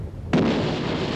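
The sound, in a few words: coastal defence artillery firing at the ship Emden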